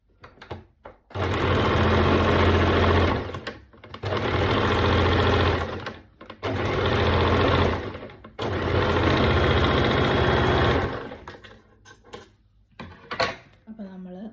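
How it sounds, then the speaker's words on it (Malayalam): A sewing machine stitches around the arm hole of a six-month-old baby's frock, running in three long steady whirring bursts separated by short stops, close and loud, then a few handling clicks and faint rustling. "ഇനി നെക്സ്റ്റ് ആം ഹോളിലാണ് സ്റ്റിച്ച് ചെയ്യാൻ പോകുന്നത്."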